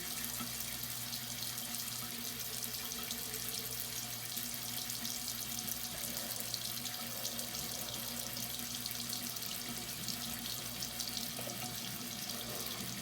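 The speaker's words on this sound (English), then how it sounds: "fill the water again, drain out the rest, and do it again" A bathroom sink filling from a running tap during a night-time skin care routine, with a steady, even splash of flowing water held throughout at moderate, close level.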